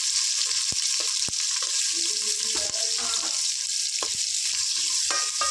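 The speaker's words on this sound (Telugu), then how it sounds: "మిర్చి చక్కగా ఫ్రై చేసుకుంటాం" Sliced onions and green chillies sizzle in hot oil in a pan, a constant loud crackling hiss with scattered clicks and scrapes from stirring, close up and without talk.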